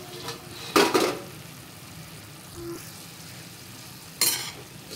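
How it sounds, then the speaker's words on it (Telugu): Cauliflower florets frying in a pan for Gobi Manchurian give a steady soft sizzle, with two sharp louder bursts as pieces are added or stirred, and no talking. "ఇలా గోబీ అంతా వేసుకొని ఫ్రై చేసుకోవాలి."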